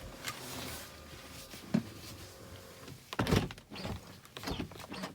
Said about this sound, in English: The doors did open